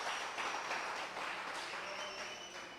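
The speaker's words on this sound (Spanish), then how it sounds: "del aplauso fuerte al Rey bendito, con toda su fuerza" A church congregation applauds during a sermon, a dense, steady wash of clapping from many hands that stays moderately loud and even, heard alone for a few seconds.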